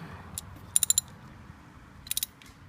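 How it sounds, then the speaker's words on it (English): A 10mm ratchet wrench loosens a glow plug on a 2006 Jetta TDI, giving two short bursts of three to four sharp, close clicks with a quiet pause between them. "using a 10mm wrench to socket, I'm gonna see if I can remove it."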